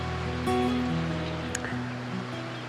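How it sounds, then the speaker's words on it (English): Steady wash of surf rolls onto a sandy beach on Fraser Island, a continuous broad roar with a faint tonal hum and a brief rattle partway through, no voices. "enjoy the sun, watch the waves"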